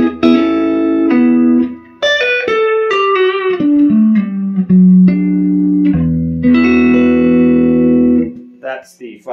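An electric guitar plays through a 1964 Fender Vibroverb amplifier with the bright switch engaged, ringing out loud, clean, sustained notes and chords that step through a melodic phrase with a short pause midway.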